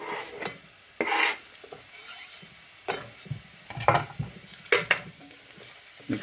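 Finely diced vegetables frying in oil for lentil soup, stirred in the pan with repeated scraping and rubbing strokes over a soft sizzle, close and irregular, with no speech.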